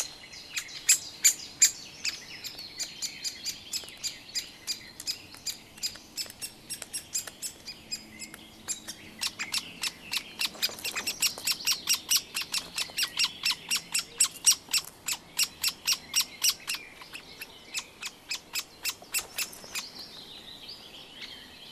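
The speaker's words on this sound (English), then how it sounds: "The young great spotted woodpecker shrieks incessantly, and his parents tirelessly bring him food." A young great spotted woodpecker in its nest shrieks incessantly, with rapid runs of sharp, high, repeated calls that swell and fade over a quiet woodland background.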